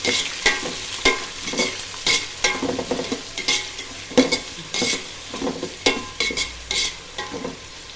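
Onions and ginger sauté in a pan for rava kichadi, with loud, rhythmic scraping from a spoon stirring against the pan over a continuous oily sizzle. The stirring strokes come close and repeated, with no talking.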